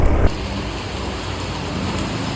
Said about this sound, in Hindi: थोड़ी बहुत बूंदाबांदी हो रही है।